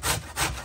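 Two quick back-and-forth scrapes of a lemon against a zester or grater while making Jamaican black fruit cake, a close, dry rasping with no talking.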